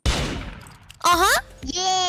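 Gunfire from the Roblox game Murder Mystery 2: a burst of loud broadband noise opening the clip and fading, followed by bright tonal game effects, with children's voices around it.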